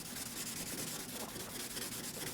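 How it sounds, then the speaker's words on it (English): Sanding block rubbed over a 3D-printed plastic part, a steady close scratchy abrasion that continues without pause, no voices. "use your sanding block"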